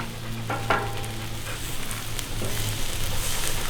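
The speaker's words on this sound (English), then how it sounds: "Probably time to flip the shrimp." Shrimp sizzle on a hot Cuisinart 360 griddle, a steady, dense frying hiss with a few faint clicks and scrapes as the pieces are flipped; no one speaks.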